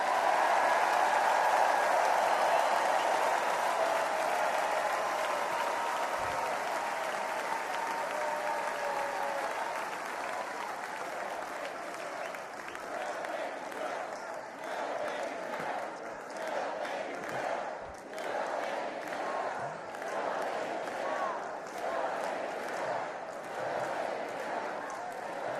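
A large political convention crowd at the RNC applauds and cheers loudly in a sustained wash of clapping and shouts that slowly thins to scattered claps, with no talking.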